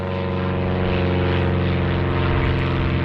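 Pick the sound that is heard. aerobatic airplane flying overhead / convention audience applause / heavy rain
aerobatic airplane flying overhead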